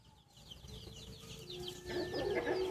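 Newly arrived hens cluck in short, repeated bursts, a few close birds at moderate volume, growing busier and louder toward the end over faint background noise.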